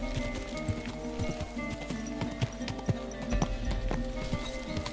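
A horse in the video game Kingdom Come: Deliverance II clops along with steady hoofbeats over an ambient bed of outdoor sound, moderately faint, with no clear neigh standing out and no talking.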